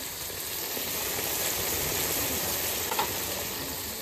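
Chilli paste, ginger-garlic paste, turmeric and other spices fry in a pan, a dense continuous sizzle with faint stirring, no talk.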